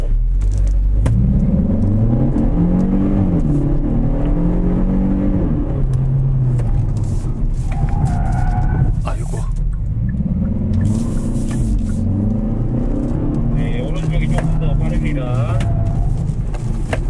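Hyundai K3 GT car engine rumbles and builds as it pulls away on a race circuit, a steady close drone under an instructor's talk.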